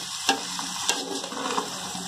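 Karunai kilangu (yam) fries in a pan under a steady sizzle, with two or three brief spoon clicks as it is mixed, close and continuous.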